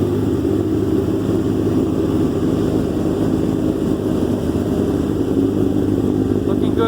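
A Kawasaki ZX7R 750cc motorcycle engine runs at a steady, loud, low rumbling idle throughout, close by, after its first start in over four months.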